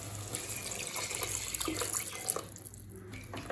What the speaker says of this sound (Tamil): இப்போ அடுத்தது இதில் தண்ணி சேர்த்துக்கலாங்க.